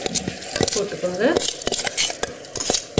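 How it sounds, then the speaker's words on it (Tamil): Rice and urad dal stirred in a hot pan with mint, a spoon scraping and clinking against metal in quick irregular strokes over a soft sizzle, close and fairly loud, with no talk. "போட்டு நல்லா கிளறிக்கோங்க"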